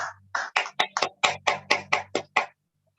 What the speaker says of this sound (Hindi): मैं सबसे रिक्वेस्ट करता हूं मेरे गुरुओं के लिए एक बार जबरदस्त तालियां